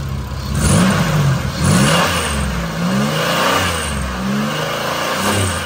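A 2002 Buick Rendezvous CXL with a 3.4 V6, automatic transmission, all-wheel drive and about 134,000 miles is revved repeatedly. Several rising and falling engine surges sound close and steady, with no talk.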